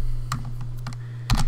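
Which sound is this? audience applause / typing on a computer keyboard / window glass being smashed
typing on a computer keyboard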